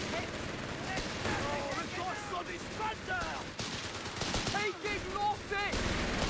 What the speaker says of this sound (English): Machine gun kind of switching from target to target